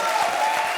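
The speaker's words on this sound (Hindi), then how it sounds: "तालियां।" Studio audience applauding at a Comedy Circus comedy show: a short, dense burst of steady clapping that fills the room evenly, with no voices standing out.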